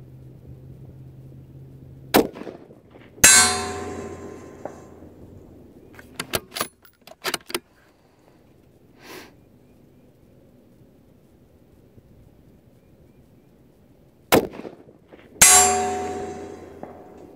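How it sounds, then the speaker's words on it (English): Rifle shots from a 6.5 Creedmoor Tikka T3X CTR with a light contoured barrel ringing steel at 600 yards: two sharp loud cracks with trailing ring, several faint distant clanks and ticks between them, otherwise quiet outdoor air. "Hitting steel"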